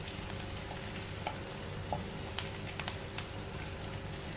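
Chicken chilli masala frying and being stirred in a pan, a steady soft sizzle with a few light scrapes and clicks from the spoon, close and continuous with no talk.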